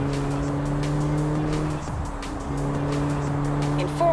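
Car in Forza Horizon 4 holding a steady, loud engine drone that dips briefly as it shifts, with faint tire squeal and a short tonal chirp near the end.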